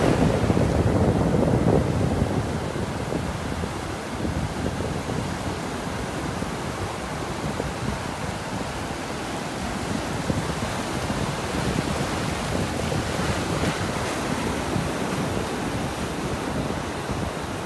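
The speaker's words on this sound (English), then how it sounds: "I'm going to record a little bit of this with these waves here." Ocean waves wash steadily onto a beach in North Naples, Florida, a continuous broad rushing surf with wind buffeting the microphone and no voices.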